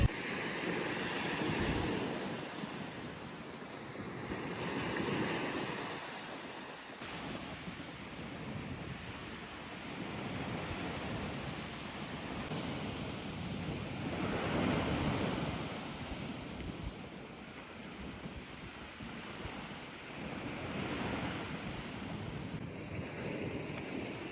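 Ocean waves crash on a beach in a steady, rolling surf that swells and fades in slow cycles, with wind buffeting the microphone and no voices.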